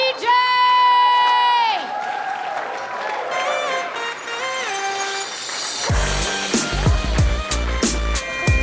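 Comedy club crowd cheering and clapping as a comic takes the stage, a burst of applause with whoops arriving partway through over loud walk-on music.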